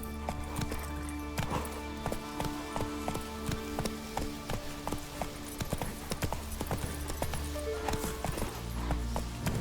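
Horse hooves clip-clop at a quick gallop in the Witcher 3 video game, a steady rapid rhythm of close, loud hoofbeats over a faint musical bed, with an occasional whinny.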